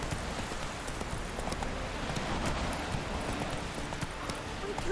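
Horse hooves clip-clop at a steady gallop in The Witcher 3, a dense rhythmic thudding under busy game ambience and music, with a voice speaking over it.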